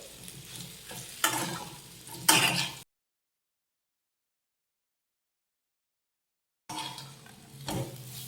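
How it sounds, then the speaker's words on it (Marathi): Pieces of alu vadi, a colocasia-leaf snack, being sautéed in a tempering in a pan, with soft close sizzling and a couple of stirring scrapes, broken by a stretch of complete silence before the stirring resumes. "मीठ घातलं ह्याला मिक्स करून घेऊयात आणि ह्या वड्या छान अशा परतून घेऊयात"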